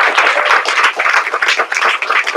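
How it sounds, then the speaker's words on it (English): An audience at a panel discussion on education applauds the panelists, with dense, sustained clapping from many hands, fairly close and steady throughout, with no talk over it. "A round of applause, please, to our panelists"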